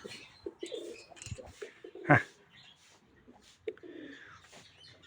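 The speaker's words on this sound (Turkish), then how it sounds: "Dibime kadar geldi güvercinler." Pigeons coo softly at close range in a quiet spot, a few low murmuring calls spread out, with one louder burst near the middle and a faint voice now and then.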